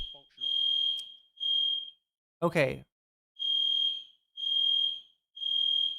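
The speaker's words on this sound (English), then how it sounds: "That's a fire alarm, but it just stopped." A smoke or fire alarm sounds in a series of loud, piercing beeps, five long tones with a gap, close by; someone says a brief word between tones.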